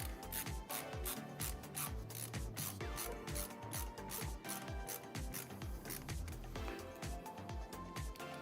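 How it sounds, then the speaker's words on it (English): Screws are driven into a Phanteks Evolv X2 Matrix PC case during a gaming build, giving a fast, continuous run of close ratcheting clicks from the screwdriver that hardly lets up throughout. "And get these screws in."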